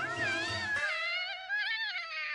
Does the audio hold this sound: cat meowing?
yes